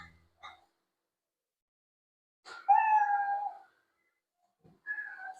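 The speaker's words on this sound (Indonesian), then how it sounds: "suara meow" A cartoon-style cat meow sound effect from the Scratch coding program, two distinct meows with a short soft chirp before them, clear and isolated with silence between.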